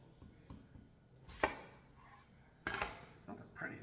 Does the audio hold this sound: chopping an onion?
yes